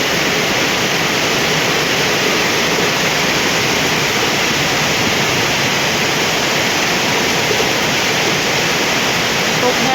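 Heavy rain pours down outside a house in a steady, dense, loud roar that never lets up.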